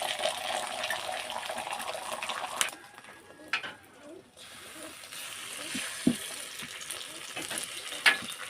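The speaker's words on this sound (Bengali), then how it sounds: "এইভাবে 4টে ডিম সব ভেজে নেব।" Eggs frying in a little oil in a wok give a steady sizzle and spatter that runs almost the whole time, with a brief quieter stretch and a few sharper pops and clinks close by.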